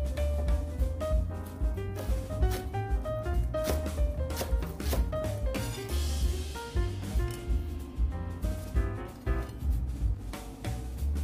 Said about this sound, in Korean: 쪽파를 송송 썰어주세요.